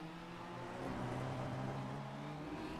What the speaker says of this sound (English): I'm listening to the car, see whether it's spitting and spluttering.